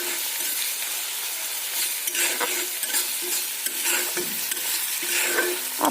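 Onions fry over a low flame in a pan as part of a veg pulao, giving a steady soft sizzle with occasional spoon scrapes and stirring clinks throughout, close and alone without voices.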